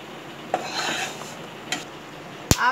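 A ladle stirs chiwda and peanuts roasting in a pan, with soft scraping and rustling broken by a few sharp metallic clinks, the last one loudest.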